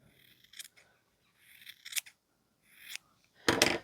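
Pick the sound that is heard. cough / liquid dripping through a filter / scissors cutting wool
scissors cutting wool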